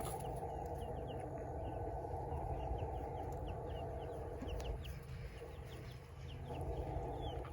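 White leghorn hens on a farm cluck steadily and fairly close, over a dense, continuous barnyard din with small chirps scattered through it and no talking.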